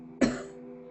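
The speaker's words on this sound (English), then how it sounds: "Please forgive me for the cough." A single short, sharp cough from a person with a sore throat, close to the microphone, over a faint steady background hum.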